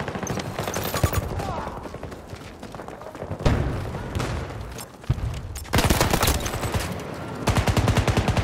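Rapid gunfire in a multiplayer shooter video game, with dense bursts of automatic fire and heavy thuds repeating throughout, loud and close, and a voice talking between shots.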